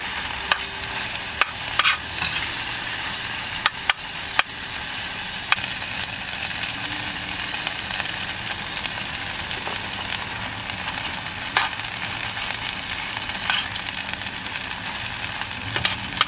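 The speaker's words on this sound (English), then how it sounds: "So I have the tofu and the butternut squash away from the fire, and the okra is like right over the ring on the fire" Tofu, butternut squash and okra fry together in one pan over a stove ring inside a van, giving a steady, close hiss of sizzling with a few faint clicks and knocks and no talk.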